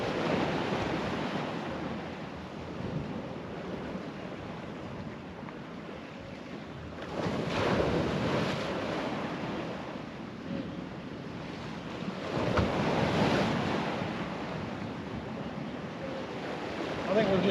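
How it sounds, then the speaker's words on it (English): Choppy sea waves on the Holderness coast at Tunstall, a continuous wash of water with two louder surges breaking, mixed with wind buffeting the microphone and no one speaking. "There's not a lot of swell, but there's plenty of chop."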